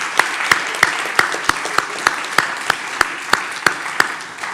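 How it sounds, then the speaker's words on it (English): An audience at an evening seminar on gender inequality applauds steadily, a dense wash of clapping close and loud throughout. "Give yourselves a round of applause"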